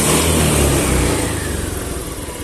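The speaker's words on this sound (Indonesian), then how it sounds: "Oke, sudah bisa starter lagi ya, karena sudah ngisi apinya." Honda Beat FI scooter engine running close by after a fuel injector replacement, a loud steady revving drone that eases slightly toward the end.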